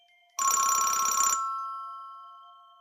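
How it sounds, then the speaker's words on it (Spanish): A telephone bell rings once, a loud, rapid metallic trill lasting about a second that then fades away in the silence. "Y entonces el teléfono."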